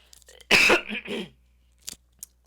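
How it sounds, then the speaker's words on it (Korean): A person coughs hard a couple of times up close, followed by a brief throat clearing and small sounds in a quiet room. "기침이 자꾸 나오네요."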